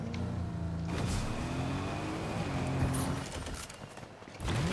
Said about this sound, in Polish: Ja jadę swoją furą.